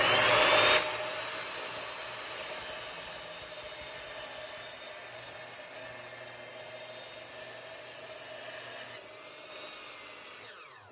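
Power tool cutting metal pieces for a homemade rocket stove, a loud, steady high-pitched grinding rasp that holds for about eight seconds before cutting off abruptly, leaving a quieter hum.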